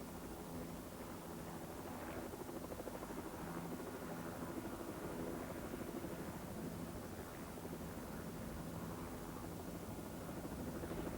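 A twin-engined helicopter drones continuously over Glencoe's mountains, its rotors chopping steadily through a broad roar of engine and wind, fairly distant and even in level.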